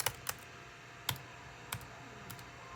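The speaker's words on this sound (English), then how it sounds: "Let's create a new note and start typing." Typing on an OMOTON foldable Bluetooth keyboard: a handful of sharp, quiet key clicks spaced irregularly, close up, in a hushed room with no talking.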